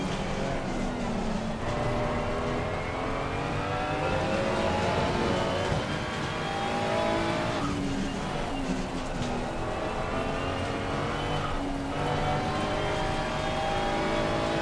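A race car engine revs and drives in Assetto Corsa Competizione, with harmonic engine tones rising and falling through gear shifts. The engine is loud and close and runs continuously, and at one point it drops off briefly under braking.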